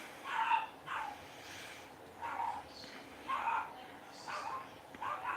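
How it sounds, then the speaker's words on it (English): Several dogs bark repeatedly in short irregular bursts at a middle distance, moderately loud, with a person talking faintly in the background. "Stupid ass dogs."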